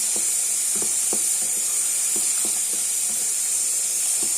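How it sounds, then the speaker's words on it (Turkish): Tomato paste frying in a pan with peppers and onions, a steady bright hiss and sizzle with faint spoon scrapes and soft taps at intervals, close and continuous, with no talk. "Şimdi salçamızı kavuralım güzel."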